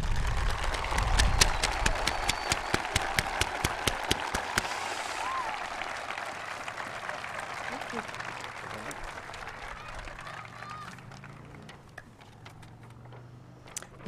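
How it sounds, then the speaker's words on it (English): Nursing students at the JSU Department of Nursing white coat ceremony in Fall 2020 receive a crowd's dense, steady applause, which starts loud and gradually thins and fades away. "let's all take a moment and give them a round of applause."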